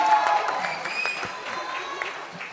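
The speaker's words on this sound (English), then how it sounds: "give him a round of applause, ladies and gentlemen" An audience at the trailer launch for the film 'Baazaar' claps briefly, a dense round of applause mixed with some cheering and voices, fairly close and fading slightly.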